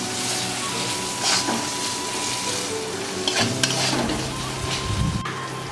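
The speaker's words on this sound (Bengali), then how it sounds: "মশলা কষানো হয়ে গেছে, এবার আমি টমেটোগুলো দেবো" Tomatoes fry and get stirred into spiced masala for a wallago fish curry. The pan gives a continuous sizzle, and a spoon scrapes and clatters against it several times in the foreground. No one speaks.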